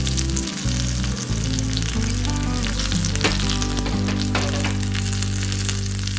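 Mustard seeds, green chillies and curry leaves crackle and sizzle in hot oil for a tempering, a steady loud frying hiss with popping bursts throughout and no talking.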